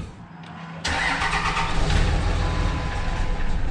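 Cummins diesel engine in a 2005 Dodge Ram cranks briefly and fires right off, then settles into a loud, steady idle with a rough low rumble, close by and without talk.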